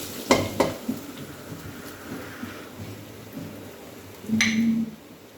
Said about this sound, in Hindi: ये गया जी हमारा देसी घी का तड़का।